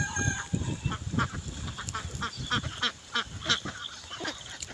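A flock of domestic ducks quacks and honks close by, with overlapping, repeated nasal calls arriving in an irregular rhythm at moderate loudness.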